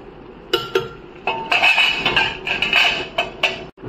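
A pot is lifted and food stirred in a pan, giving a run of sharp metallic clinks and scrapes of utensil against cookware, close and fairly clear, arriving in irregular bursts without speech.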